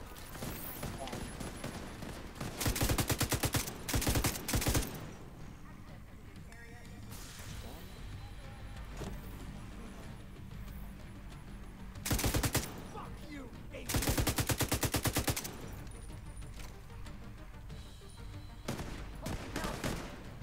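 Bursts of rapid automatic gunfire from The Division 2 come in several loud clusters, with quieter fighting noise in between and someone talking over the action.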